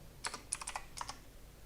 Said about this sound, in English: So I'm gonna type in saw